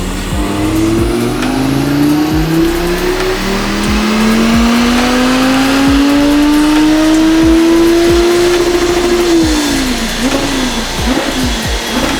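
An Audi R8 engine revs on a dyno during a run after a carbon clean, rising in a long loud climbing pull for about nine seconds before the throttle closes and it drops back, with a steady roar of rollers and fans underneath.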